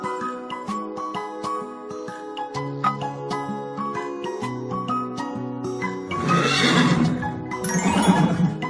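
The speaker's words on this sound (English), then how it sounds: "Horse." A horse neighs and whinnies loudly and close by, a long quavering call followed by a second shriller burst near the end.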